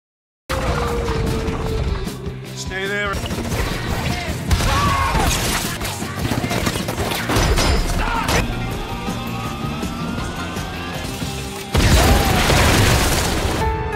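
Gunfight and explosions from a spy action film, with gadget tricks in play: dense, loud, continuous crashes, booms and mechanical clatter layered under a film soundtrack, with no pauses across the whole stretch.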